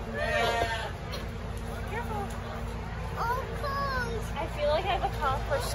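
A goat at a fair bleats several times in short wavering calls amid a busy crowd hubbub, with children and adults chatting close by.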